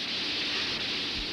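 Rain falling in a steady, dense hiss that stays constant and fairly loud throughout, like a downpour, with no voices over it.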